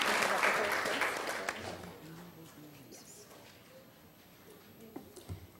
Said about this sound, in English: And now we can get a big round of applause for all of our honorable mentions.